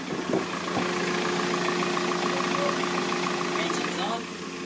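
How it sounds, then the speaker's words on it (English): The engine of a new 60 ft trimaran, La Vagabonde III, runs at a steady idle with an even mechanical hum and faint knocking, close and moderately loud throughout. "Engine's on."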